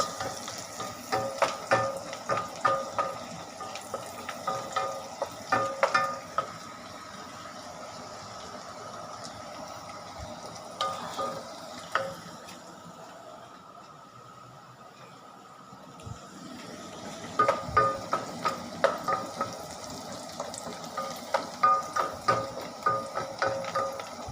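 Beef frying in a pan at home gives a soft, steady sizzle with intermittent clinks and scrapes from stirring, quieter in the middle stretch before the clatter picks up again.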